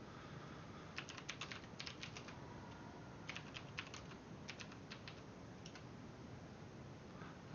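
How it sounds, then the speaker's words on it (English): Quick bursts of keyboard typing at a computer during a Legacy Cube draft stream, soft clustered clicks in short runs separated by pauses, faint and close over a low steady background hum, with no talking. "that typing"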